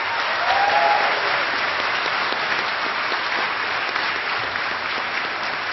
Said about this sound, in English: So one more round of applause for our panelists.